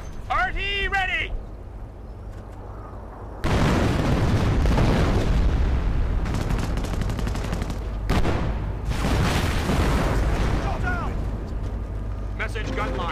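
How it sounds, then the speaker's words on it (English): Heavy artillery explosions and battle noise in the World War II strategy game Company of Heroes, a dense, loud, continuous roar of booms and gunfire with sharp bursts, interrupted by brief quieter moments, and speech heard at times. "the artillery is my lifeline here"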